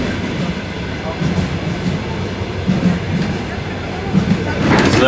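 Passenger train No. 354 from Adler to Perm rolls along steadily, heard from inside the car as a loud, continuous low rumble with faint rhythmic clatter and a rising rush near the end, while people talk quietly.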